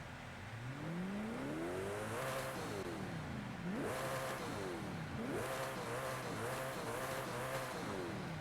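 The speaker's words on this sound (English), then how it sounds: "This is this car in this game. And it is fast as crap. But listen to the motor." Koenigsegg Jesko engine in Forza Horizon 5 revs repeatedly, its pitch sweeping up and falling back in rising, howling bursts with gear-change dips, loud and alone with no talk.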